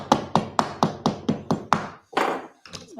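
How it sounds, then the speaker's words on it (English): A knife handle used as a hammer taps on old hardwood furniture, about eight sharp wooden knocks in a quick even rhythm, then a few scraping, looser thuds, close and loud with no talk. "Did you just use the knife as a hammer?"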